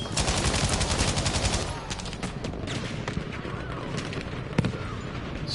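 A bipod-mounted machine gun fires in rapid sustained bursts in Battlefield V, loud and close at first, then sparser distant gunfire and battle noise continue.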